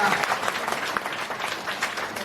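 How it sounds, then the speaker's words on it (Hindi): Congregation applauding a boy at a church youth seminar, a brisk burst of crowd clapping with dense, uneven hand claps, moderately loud, with a voice briefly heard in the mix. "इस लड़के के लिए हम जोर से ताली बजाएंगे।"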